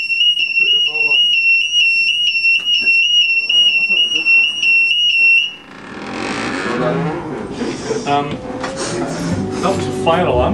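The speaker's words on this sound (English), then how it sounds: "That was a fire alarm." A loud electronic fire alarm, a false alarm in the Arches on a guided tour, sounds in a repeating, evenly spaced high beeping pattern for about five seconds and then stops abruptly, leaving a crowd of people talking and moving.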